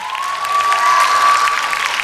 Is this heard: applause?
yes